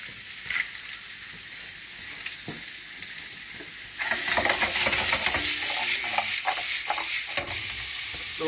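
Schnitzels sizzle and fry in a hot pan, a steady crackling hiss that starts moderate and swells louder midway, with scattered pops and spatters close by and no talking.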